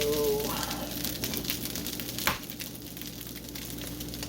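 Breakfast fried rice stirred in a sizzling pan, with a steady quiet frying hiss, scraping and shuffling of the spatula, and a brief sharp clink partway through.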